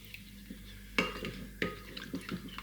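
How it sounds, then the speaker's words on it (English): A spoon stirring Hawaiian chicken marinade in a small bowl, with a few soft clinks and scrapes against the dish, close and fairly quiet. "find a spoon, give it a good mix"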